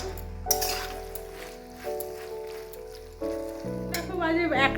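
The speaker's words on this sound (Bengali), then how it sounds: "ঘুগনিটা আমার রান্না হচ্ছে" Ghugni, a chickpea curry with its spice paste already fried, cooks in a pot with a low sizzle punctuated by metal clinks and bursts of stirring; a faint voice rises near the end.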